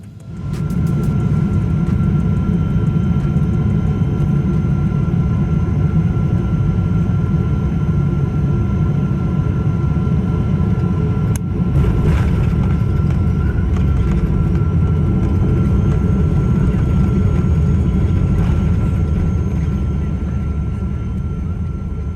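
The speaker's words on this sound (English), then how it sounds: "descending over the city before coming in for a landing on runway 23" KLM Boeing 777-200ER descending on final approach and landing on runway 23 over a city, heard from the cabin as a loud, steady engine and airflow roar with a brief thump near the middle, no voices.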